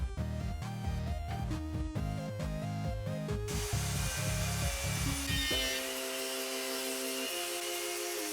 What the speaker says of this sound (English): I'm squaring up the slab and cleaning it up with a circular saw.